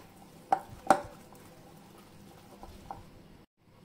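Plum cake batter stirred in a bowl, with two sharp clinks of a spoon against the bowl early on, then soft, faint scraping and a last light tap before silence.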